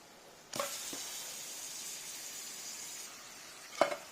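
Cut pieces of Godavari koyyanga fish dropped into hot oil for a curry, a sudden loud sizzle burst that settles into a steady hiss, then a second sharp spatter near the end.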